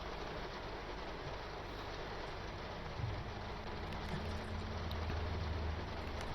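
Train in Train Sim World 5 on the London Victoria to Reigate route, accelerating from a 60 mph limit board on notch 3 power: a steady broadband rumble of rolling wheels and traction, continuous and moderately loud throughout.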